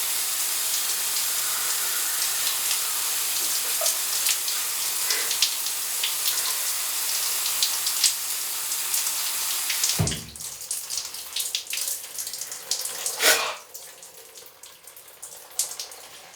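A tap runs water into a sink with a loud, steady hiss for about ten seconds. The flow then drops to a lighter splash, with a couple of sharp knocks and clatters near the fixture.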